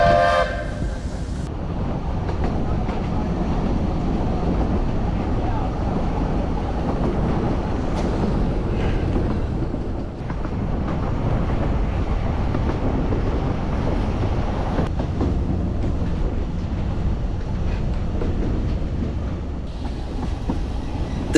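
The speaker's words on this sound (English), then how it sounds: "takes the full commitment of the mighty little engine to pull us up to the next station" Welsh Highland Railway narrow-gauge steam train labouring up an incline toward the next station, heard as a steady, dense rumble and clatter of the engine and carriages that continues throughout, with no talk.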